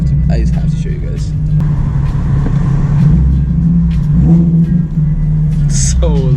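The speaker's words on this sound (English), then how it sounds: "I want to show you guys just how loud this car is inside of parking garages" A modified Nissan 370Z's engine revs loudly inside a parking garage, a deep, booming rumble echoing off concrete walls with rising and falling throttle blips, close and continuous.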